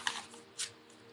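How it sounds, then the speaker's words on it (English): A deck of tarot cards is shuffled in two quick bursts of crisp riffling, close and quiet, separated by a brief pause over a low steady hum. "I'm just going to do a good shuffle."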